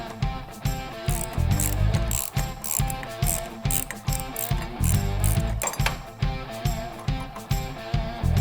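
A ratchet removes the shock bolts on a Harley Dyna motorcycle during a Progressive 970 shock install, clicking in loud, steady back-and-forth bursts up close for the whole stretch, with no speech.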